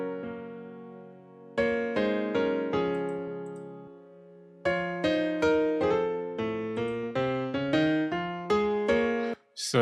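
Two layered software pianos, one of them the RB piano, play together: sustained chords followed by a series of rhythmic, punchy chord hits that each decay, clear and alone.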